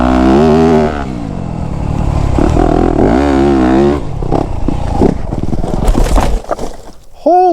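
Dirt bike on a motocross track sliding around a turn, engine roaring loud and close with wavering pitch as it drifts, then rougher bursts and clatter toward the end.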